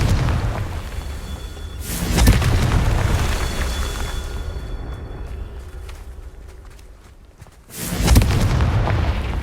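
Confringo blasting spell in the video game Hogwarts Legacy: two heavy, booming explosions several seconds apart, each a loud close burst fading into a rumbling tail.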